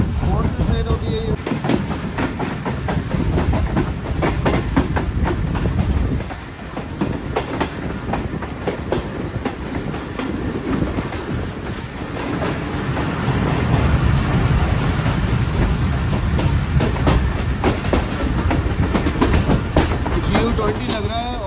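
Shalimar Express passenger train, riding in an old parlour car between Multan and Karachi, gives a continuous loud rumble with rhythmic clickety-clack of wheels on rails, while someone talks over it throughout.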